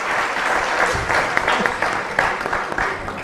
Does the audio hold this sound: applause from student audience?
yes